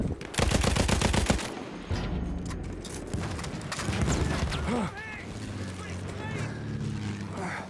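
Rapid bursts of gunfire in Battlefield 1 rattle loudly at first, followed by booming blasts and chaotic mechanical noise, with a voice talking underneath.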